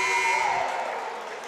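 An end-of-quarter buzzer sounds in a high school basketball gym, a loud sustained electronic tone near the microphone that holds steady and slowly fades, with faint crowd noise beneath.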